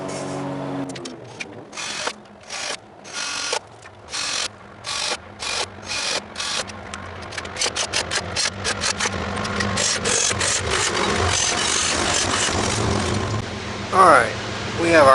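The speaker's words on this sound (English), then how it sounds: "Now it's time to drill them." Bolt holes being drilled in a lowered-pulley MTD race mower, a series of short, evenly spaced drill bursts that run together into steadier grinding, close up.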